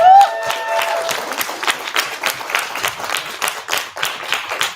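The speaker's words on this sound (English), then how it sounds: "Give my team a round of applause." A crowd applauds an event speaker's team, dense clapping sustained steadily throughout at moderate loudness, with a brief voice at the very start.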